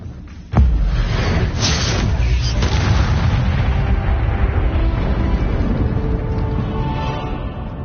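A sudden heavy whoosh-boom as the Incendio fire spell is cast in Hogwarts Legacy, followed by a long roaring, crackling burn that holds steady and loud for several seconds.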